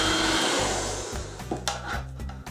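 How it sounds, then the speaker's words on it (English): A hair dryer blows a loud, steady airy whoosh close to the microphone, then eases slightly as faint knocks and handling clatter appear near the end. "Hairdryer."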